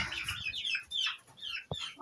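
Chickens cluck and chirp in short bursts close by, with one sharp louder cluck near the end; no talking.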